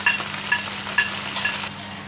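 Spices roast in a pan for shahi paneer, a close sizzle punctuated by rhythmic scraping strokes of a spoon roughly every half second, stopping abruptly near the end and leaving a low steady hum; no one speaks.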